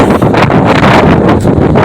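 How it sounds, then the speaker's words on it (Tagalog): Strong wind buffets the microphone on a beach at Bulalakaw, a loud, continuous broadband roar with gusty swells and no clear voices. "Lakas ng hangin mga kas."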